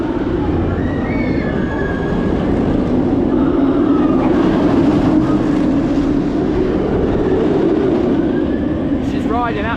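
A roller coaster train, the Nemesis at Alton Towers running empty, rumbles steadily along its track with a continuous roar and faint rattling, loud and close throughout.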